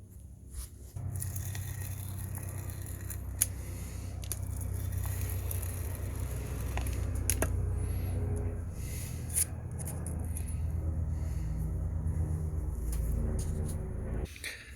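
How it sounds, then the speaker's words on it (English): Hand roller pressed over sandpaper laid on a glue-stick-coated flat plate, a soft continuous rolling rumble with scattered small clicks and taps, quiet and close throughout. "Yet again, give it a nice roll."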